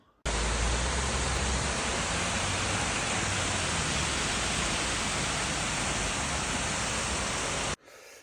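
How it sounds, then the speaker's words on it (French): Steady rain drums on a tent at night during a bikepacking trip, as a loud, even hiss that starts abruptly and cuts off just before the end. "Et puis là, il pleut encore."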